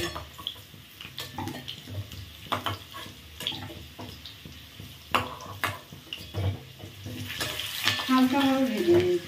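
Potato pieces fry in a home kitchen pan, with soft sizzling under clinks and scraping as they are stirred, while someone speaks over it.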